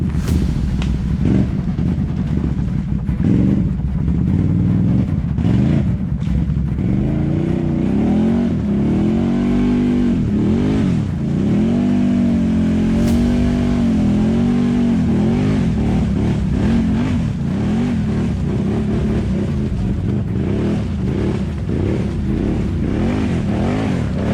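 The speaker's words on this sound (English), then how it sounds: "I'm gonna go through this little one here. It might not look like much right now, but it's gonna throw me to the one side." A Can-Am Renegade 1000 ATV revs hard through a mud hole on a trail ride, its engine roaring loud and close throughout, rising and falling as the throttle works against the mud.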